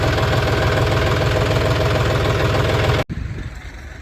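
A line of tractors idles with a loud, steady low diesel rumble and knocking pulse close by, then cuts off abruptly near the end, leaving quieter background noise.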